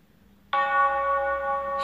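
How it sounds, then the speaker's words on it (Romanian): A sustained bell tone rings out in the horror video game The Mail, starting abruptly and holding steady and loud for over a second. "Și fac clopotele în continuare."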